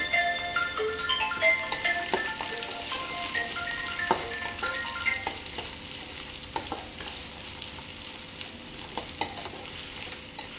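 Onions frying in oil in a pan for semiya upma, giving a steady close sizzle with scattered spoon-stirring clinks and scrapes, no voices.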